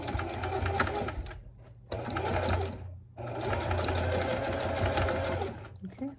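Sewing machine stitching a 1 inch seam on a zipper pouch with pockets: fast, even mechanical chatter in three runs with short stops between, close and steady, no speech.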